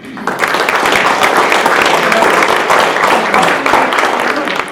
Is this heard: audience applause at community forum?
yes